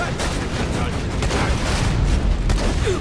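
Bursts of gunfire and explosions from the video game Borderlands 2, dense and loud throughout, mixed with excited talking from players.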